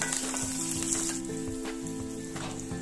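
Green and a few red chillies hitting hot oil while cooking poha-sooji, a steady bright crackling sizzle throughout with light stirring clatter, close and alone.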